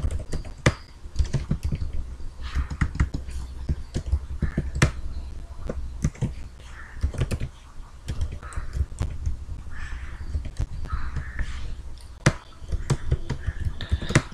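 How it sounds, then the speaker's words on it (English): Steady, rapid clatter of computer keys being typed, with brief pauses and a few louder keystrokes, close and clear with no talking. "I am typing password."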